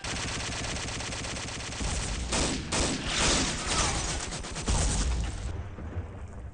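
Dense, loud gunfire and repeated explosions from a World War II shooter game on the Overlord beach-landing map with Sturmbot bots, rapid machine-gun bursts layered with heavy booms, continuous throughout and fading out at the end.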